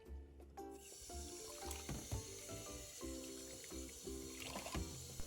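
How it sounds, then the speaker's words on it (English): Water pours and splashes in uneven bursts, a close trickling and sloshing as a makeup sponge is rinsed with soaking water, with no talking. "And this is the water that we soaked in earlier, and I'm just gonna pour them and wash it"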